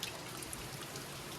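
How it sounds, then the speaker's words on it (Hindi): Heavy rain pours steadily, a dense, even hiss of drops on surfaces that fills the whole stretch with no pause. "पर लगी है जोरों से ही बारिश भाई"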